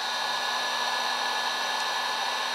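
A heat gun or hair dryer blows hot air steadily at close range onto the logo label of an Airway 88 MKII vacuum, a loud continuous whooshing roar with no talking.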